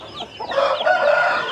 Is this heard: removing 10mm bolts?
no